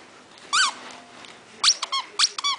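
A squeaky toy squeezed in short bursts: one squeak, a pause, then four quick squeaks in a row, fairly close and clear.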